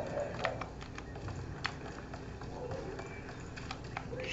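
Horse hooves clip-clop in a video game streamed to a phone through Nvidia GeForce Now, a quick, steady run of hoofbeats over constant background game noise.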